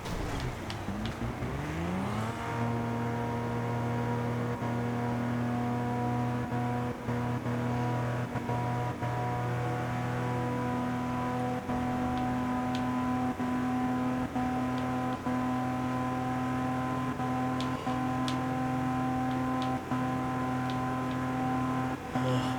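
Steady, strained race car engine drone in Forza Horizon 2, the engine damaged and limited, holding a constant pitch after a brief rise, with occasional clicks and faint tire noise.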